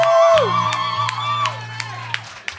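A crowd cheers and claps for Dave Morgan at a live stage show, loud and close, with whoops and shouts over the applause and no speech.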